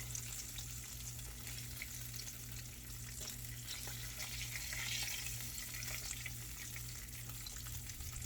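Pork backstrap fries quietly in a pan, giving a soft, steady sizzle with faint stirring under a low background hum; no speech.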